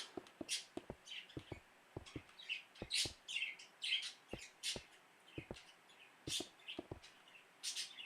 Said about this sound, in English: The birds you're hearing in the background are my pets. They're chirpy. They're two budgies.